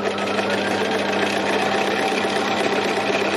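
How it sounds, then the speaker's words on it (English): A sewing machine runs steadily while stitching down fabric for a mountain design, its motor hum and needle chatter continuous, close and fairly loud throughout with no pauses or talk. "So I'm going to finish stitching this down"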